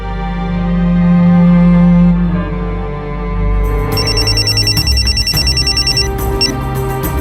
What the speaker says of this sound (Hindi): सीमा बोल, क्यों बार बार फोन कर रही है?